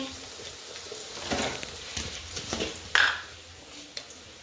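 Onion frying in a pan, a soft steady sizzle with occasional stirring scrapes and one sharper clatter of a utensil, while someone talks over the cooking.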